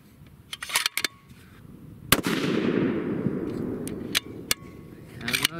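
A custom 7mm PRC rifle fires a Berger 195gr Extreme Outer Limits bullet: one sharp, loud blast with a long rolling echo that fades over a few seconds, framed by light clicks and handling noises.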